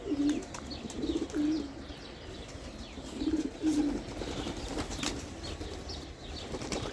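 Young pigeons give several short, soft coos in small bursts with quiet gaps between them, set against a low background hum and some faint rustling.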